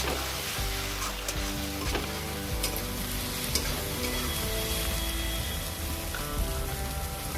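Ground coriander, cumin, chili powder and slit green chilies sizzle and fry in a pan for Bengali muri ghonto, a dense continuous crackle with scraping stirs, close and fairly loud.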